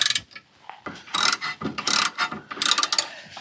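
A hand ratchet wrench clicks rapidly on the brake caliper slide pin of a 1998 Mercedes-Benz C230 (W202), with several short close bursts of ratcheting separated by brief pauses and no talking.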